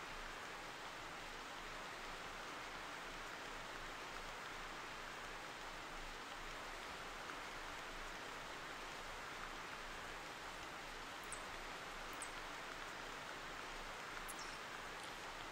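Steady rain falls in the hunting game theHunter Classic during a mule deer hunt, a constant dense hiss of drops that holds evenly throughout with no talk over it.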